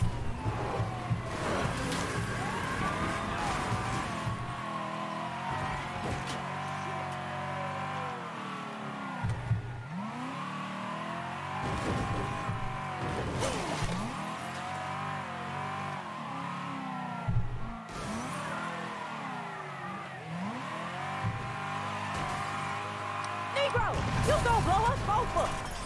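Car engine accelerating and revving in the Mafia 3 video game, a steady mid-pitched drone that rises and falls with throttle changes throughout, mixed with game music and occasional voices.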